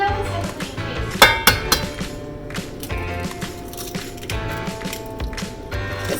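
Eggs cracked against a hard edge for homemade egg noodles, giving several sharp clinks and knocks amid kitchen clatter of bowls and utensils, close and moderately loud.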